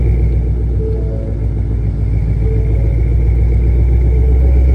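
A supercharged 2017 Ford Mustang GT Premium idles with its exhaust valves closed, giving a loud, steady, deep rumble close by with a constant throb and no talking.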